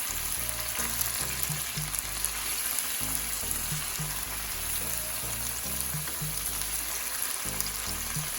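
Canned, pre-cooked ackee and saltfish being gently folded in a frying pan, a continuous close sizzle with soft, repeated scraping and stirring strokes of the spoon.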